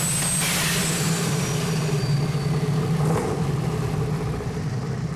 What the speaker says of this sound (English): on our first run, we're going to take it easy with a mild first gear pull